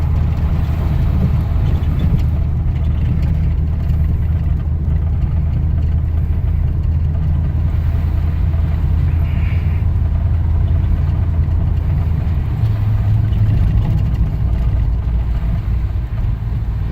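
Steady low exhaust rumble of a 1978 Trans Am fitted with Dynomax Super Turbo mufflers, heard from inside the car while driving under load, loud and continuous with a slight rise in tone near the end, no talk.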